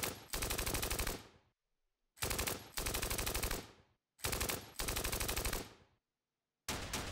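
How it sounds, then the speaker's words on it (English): Flak guns in the war game Steel Panthers, set in the 1980 Iran-Iraq war, fire three long rapid bursts of loud automatic fire, each cut off by a short pause, and a fourth burst begins at the end. "there goes my flak guns, finally firing some OP fire there"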